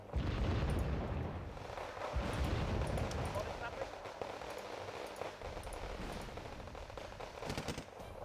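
Mortar explosions in the war game Wargame Red Dragon, heavy booms and rumbling blasts mixed with rattling gunfire, dense and continuous, with a voice talking over parts of it.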